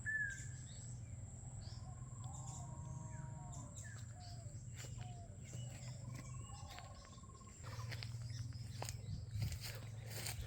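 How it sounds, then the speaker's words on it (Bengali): Assorted birds call and chirp across an open rural field, scattered whistles and tweets at middling distance over a steady low hum and faint insect buzz. "দেখবেন বিভিন্ন পাখির ডাক,"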